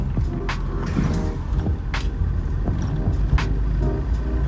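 A 1986 Opel Kadett E cruises at about 50 km/h in third gear, its engine droning steadily inside the cabin over road rumble, with occasional light knocks and clicks from the interior.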